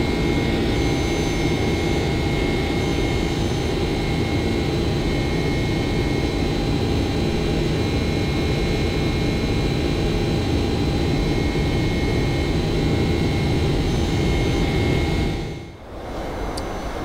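Boeing 767 jet engines climbing toward cruise altitude in the X-Plane 11 flight simulator: a loud, steady cabin roar with a constant whine that drops away sharply near the end.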